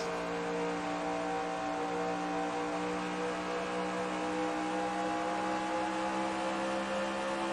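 Steady onboard drone of a Chevy race car engine at Dover in a Winston Cup stock car racing game, a constant harmonic roar with no pauses and no talk.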